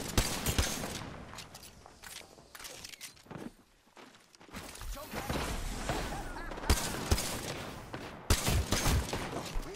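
Video game gunfire crackles in rapid volleys alongside footsteps and battlefield noise, loud and fairly continuous with brief lulls, while voices talk over the action.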